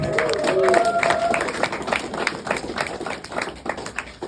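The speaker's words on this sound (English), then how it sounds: "Let's get a round of applause for Drake." An audience claps in a round of applause, with a dense patter of hands that peaks early and tapers off into scattered, fading claps over a few seconds.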